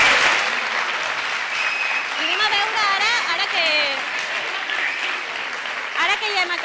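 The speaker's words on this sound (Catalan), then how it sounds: "Us podeu aixecar, un fort aplaudiment pel sí" Students clap loudly after a quiz, a sustained round of applause filling the room while a voice speaks over it.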